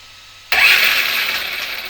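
A small RC car's electric motor spins up the instant the throttle trigger is pressed, an abrupt loud whirring whine that jumps in from silence and holds steady close by for over a second.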